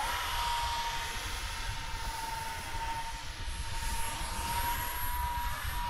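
A jet aircraft flying overhead, a steady loud roar with a high whine running through it, continuous and unbroken with no talking.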